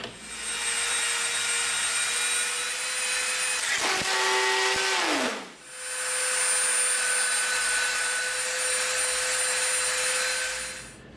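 A Dremel rotary tool shaping EVA foam: a high steady whine that dips in pitch as the bit bites into the foam, cuts out briefly, then spins back up to full speed, loud and close.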